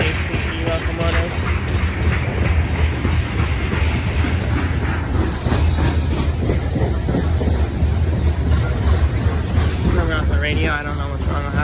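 A freight train with locomotives passes through the Whitefish, Montana rail yard in a continuous loud rumble and clatter, with wind buffeting the microphone the whole time.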